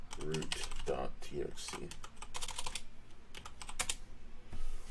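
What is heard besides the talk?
typing commands on a computer keyboard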